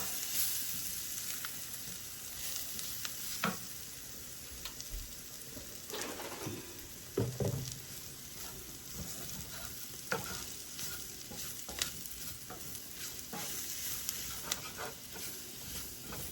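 A cottage pie filling sizzles and fries in a pan while flour is stirred through it, giving a steady close hiss with intermittent scraping stirs and no voices.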